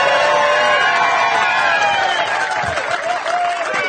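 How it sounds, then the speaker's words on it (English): A lively outdoor crowd at the Great American Rail Trail route reveal on the Headwaters trail system in Three Forks, Montana applauds and cheers with whoops, steady and dense throughout, with voices mixed in. "Got a lively crowd here in Three Forks, Montana on the Headwaters trail system."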